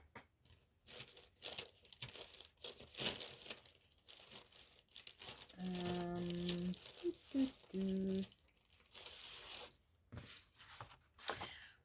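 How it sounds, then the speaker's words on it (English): Banana-box packing paper being crumpled and crinkled by hand, a steady rustling texture broken by a few short pitched squeaks, close up and fairly quiet with no talk. "It's packing paper out of a box of bananas. And it's a bit crunkled."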